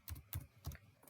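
Several quick keystrokes on a computer keyboard while code is typed, an irregular patter of about four soft, close clicks with no voices.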